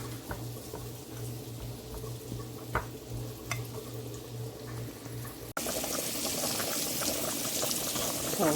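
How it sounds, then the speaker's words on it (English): Pasta boiling in a pot of water for spaghetti, a steady bubbling and rolling simmer close by that grows louder and denser partway through. "right now my pasta is boiling"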